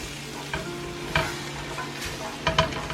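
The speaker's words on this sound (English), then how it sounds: "And you keep stirring, stirring," Minced garlic sizzles in a pot for a chicken tortilla soup while a utensil stirs it, with a steady frying hiss broken by a few distinct scraping strokes, close and clear.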